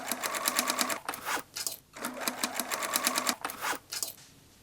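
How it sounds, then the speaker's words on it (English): A sewing machine stitches denim in rapid rhythmic bursts, its needle clattering quickly, pausing briefly between runs, close and clear with no talking. "stitch them on the sewing machine"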